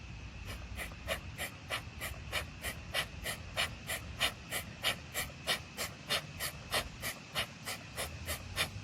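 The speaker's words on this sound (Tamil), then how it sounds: "ஒரு மூக்கு அடைச்சிட்டு ஒரு மூக்குல மூச்சு விடுறீங்க" Rapid, rhythmic alternate-nostril breaths hiss through one nostril at a time about twice per second, close and steady, continuing evenly throughout.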